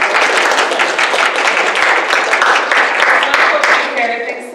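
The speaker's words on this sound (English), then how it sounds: "Brady a round of applause." Listeners at an academic humanities talk give a warm round of applause for the guest speaker, a dense patter of clapping that holds steady before fading at the end, with faint voices underneath.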